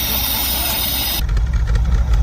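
A Holden VC Commodore engine runs steadily up close, a continuous loud rumble with a hissy top that drops away partway through, leaving a deeper throbbing idle.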